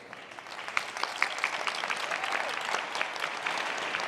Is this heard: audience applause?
yes